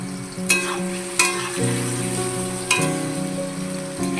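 Potatoes sizzle in hot oil in a kadai with a loud, continuous crackling hiss, broken by a few sharp scrapes and clinks of stirring; soft musical tones hum underneath.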